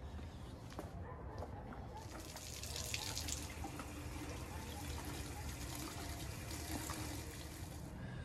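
Purified water from a reverse osmosis tank runs steadily into a coffee maker reservoir, a continuous close splashing wash with slight rises in flow through the middle.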